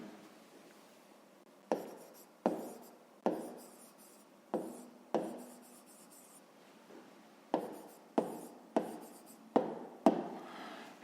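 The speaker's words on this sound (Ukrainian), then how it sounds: "Ну що ж, зараз записуємо відповідь" Handwriting an answer for a fifth-grade maths exercise: a dozen short, crisp pen strokes on paper, close and quiet, spaced irregularly with brief pauses between them, and no voices.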